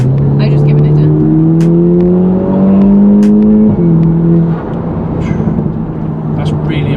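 Stage 2 tuned Audi TTS coupe making 350 bhp accelerating hard, its engine note climbing steadily through the revs with a brief dip at a gear change, then settling to a lower drone as the car pulls on.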